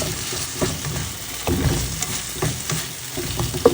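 Shrimp and a large halved tomato with fried spice paste being stirred in a pan: loud close sizzling with irregular scraping and clattering spoon strokes against the metal, continuous for a few seconds.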